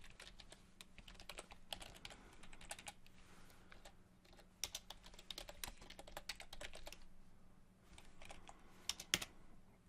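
Git commands typed on a computer keyboard come as quiet, irregular bursts of clicky keystrokes with short pauses, close-miked over a faint low hum.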